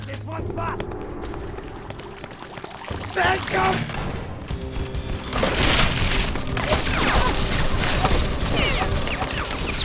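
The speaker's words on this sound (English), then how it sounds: "They're throwing bombs at me" Bombs thrown by enemies explode amid gunfire in the BloodRayne video game, heavy booms and crackling shots building into a dense, loud battle din, with voices talking over parts of it.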